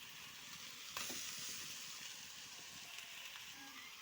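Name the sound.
sesame paste added to sizzling radish greens in pan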